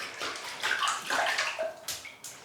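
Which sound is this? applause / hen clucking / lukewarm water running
lukewarm water running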